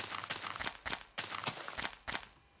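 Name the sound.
old Minecraft beta footstep sounds, from a video game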